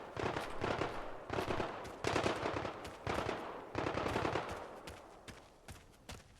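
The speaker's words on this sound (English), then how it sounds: "Burst fire, triple shot." A burst-fire triple-shot gun in a video game fires repeated rapid volleys, each a tight cluster of loud, close cracks, separated by short pauses before the shooting thins out at the end.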